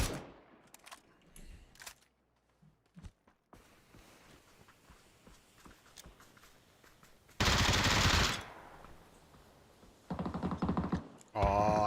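Loud bursts of automatic gunfire in PUBG, with sparse distant shots and footsteps early on and then two heavy sustained volleys near the end, partly under a commentator's voice.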